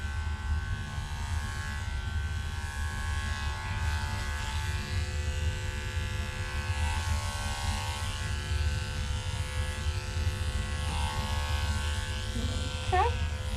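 Electric clippers shave a pet's fur during grooming, a steady close buzzing drone running throughout with slight shifts in pitch as the blades move, while a person talks over it.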